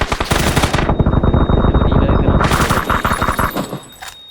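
Machine gun fire from a helicopter in PUBG, loud and close, hammering in fast rhythmic bursts with a short dip in intensity midway, then fading out near the end.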